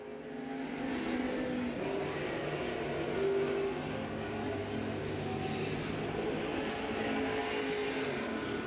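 A crate late model race car runs a timed lap at Crossville Speedway, its engine a continuous droning roar held at a fairly even level throughout, heard from some distance with no talk.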